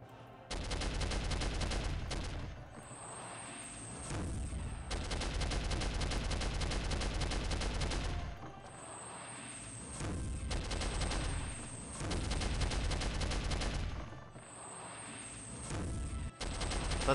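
Heavy turret gunfire in the shooter Soldier of Fortune Part 2: dense, loud sustained bursts of rapid automatic fire lasting several seconds each, separated by short lulls, with no talking.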